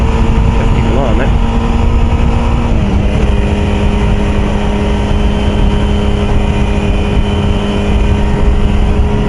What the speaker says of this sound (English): downshifting and pinning it on this bike doesn't really get me anywhere much faster